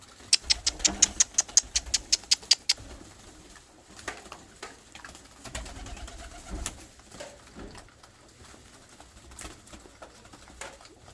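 A rapid series of sharp wing claps opens, followed by soft, low pigeon coos and rustling nearby at a feeder, with no talking.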